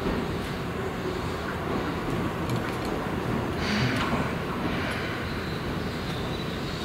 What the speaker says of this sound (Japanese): 4番線に到着の電車は臨時特急中之島行きです。